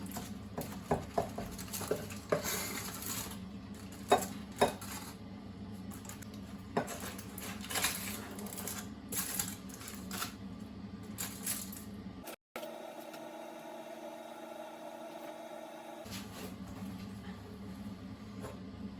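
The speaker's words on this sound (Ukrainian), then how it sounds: "Також перемішуємо салат." Salad being stirred in a bowl while cooking beef steak in onion-mustard sauce, with clattering utensil clicks and scraping against the bowl, broken by a brief quieter pause with a steady hum.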